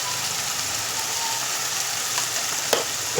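Soya chunk curry with turmeric and salt frying in a pan, a loud continuous sizzle with a few clinks near the end as it is mixed.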